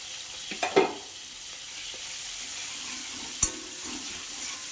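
Chopped tomatoes fry in a pan for egg tadka, giving a steady low sizzle with a couple of brief scraping stirs near the start and one sharp utensil knock midway; no voices.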